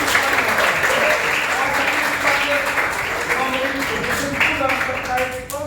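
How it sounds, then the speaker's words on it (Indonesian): Classroom applause fills the room, sustained clapping from many students that holds steady then tapers slightly, with some voices mixed in. "Luar biasa, beri tepuk tangan."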